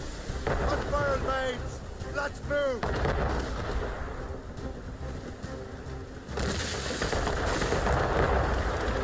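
Ship cannons firing in Assassin's Creed Rogue, a broadside of booming artillery rumbling over sea and ship noise, with shouting voices in the first few seconds and a louder wave of blasts near the end.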